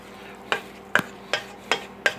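A spoon stirs a cheesy squash casserole mixture in a bowl, making five evenly spaced, fairly close scraping knocks against the dish over a quiet background.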